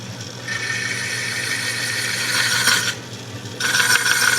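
Proforme hook tool making a push cut on spinning wood on a lathe, a rough scraping rasp over a motor hum, swelling in two bursts with a brief pause between.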